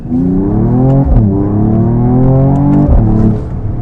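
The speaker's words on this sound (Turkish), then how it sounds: "vites arttırdığımızda gelen egzoz sesi de patırtı da gerçekten güzel hissettiriyor" Loud, close exhaust roar from a Mercedes-AMG GT 43, rising in pitch as it revs, dipping briefly at each upshift, then climbing again.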